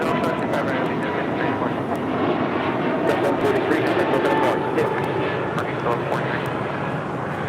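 Delta Airbus A220-100 taking off at LAX, a rumbling jet roar heard at a distance under a radio-chatter ambience, with sharp clicks and crackles scattered through it.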